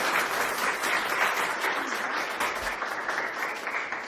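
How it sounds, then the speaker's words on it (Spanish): Sustained applause from an audience for the day's lecturer after a talk on the zootechnician's role in conservation, steady crowd clapping at an even level throughout with no speech. "más que un merecido aplauso para nuestra conferencista del día de hoy"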